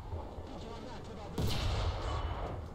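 A tank cannon fires once in War Thunder, a single sharp boom midway with a rumbling low tail, heard over a steady background of engine and battlefield noise.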